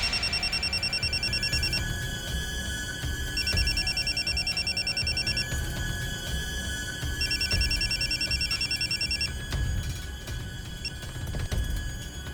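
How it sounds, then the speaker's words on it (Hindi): An electronic telephone rings during a call, its steady bursts repeating three times in a regular cycle over a constant background, with no talking. "फिर मैंने वसीम के फोन पे कॉल किया था"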